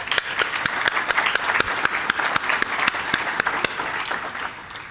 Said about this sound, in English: so I just want to give you a quick round of applause.